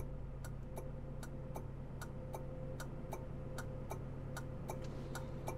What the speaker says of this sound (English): Isn't that a lovely indicator noise?